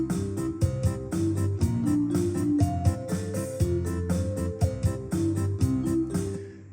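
Yamaha PSR-SX920 arranger keyboard playing a multipad pattern, with the guitar part set to chord match off so it holds a fixed note while other parts follow the chords; steady, rhythmic full-band accompaniment plays alone throughout.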